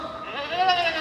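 Members of an audience at a state FFA convention imitate a goat bleating with their voices, giving a short wavering bleat that is loud and close and blends with the crowd's voices.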